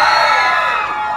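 A convention-hall audience at a horror film panel screams loudly together in a dense, sustained roar that holds steady for its full length.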